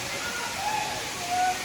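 Katiki waterfall in Araku Valley roars as a steady broadband rush of falling water, distant and continuous, with a few brief tonal sounds over it.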